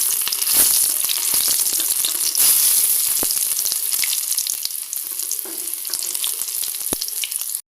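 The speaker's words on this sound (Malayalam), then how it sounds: "എണ്ണ ചൂടായി നമുക്ക് കടുക് ഇട്ട് കൊടുക്കാം" Mustard seeds and shallots sizzle hard in hot oil, a loud, close, continuous crackle with sharp seed pops scattered throughout and no voices.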